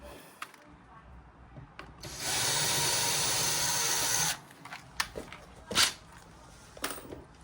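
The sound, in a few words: power drill drilling small pilot hole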